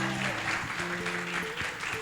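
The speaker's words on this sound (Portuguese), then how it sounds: "Você pode aplaudir e glorificar a Deus nessa noite. Se é para Deus, aplauda mais forte" A church congregation claps during an evening service, a dense, steady wash of applause over sustained tonal sounds underneath.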